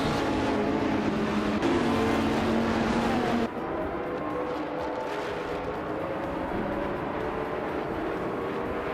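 Race cars in a racing video game starting at Hockenheimring Vintage GP, including a 2016 Dodge Viper GTS on pole, with loud continuous engine drones and shifting tones as they accelerate together.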